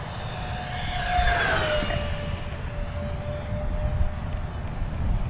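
An Eflite A-10 Thunderbolt RC jet with twin 64mm electric ducted fans streaks past fairly close, its high whining fan tone rising and then sliding down in pitch over steady wind and outdoor noise, with no talk.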